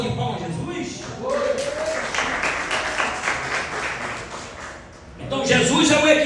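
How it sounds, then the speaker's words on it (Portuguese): A church congregation at a family worship service claps together in a broad, sustained burst of applause, with voices mixed in and a speaker's voice rising over it near the end. "Dê uma salva de palmas a Jesus."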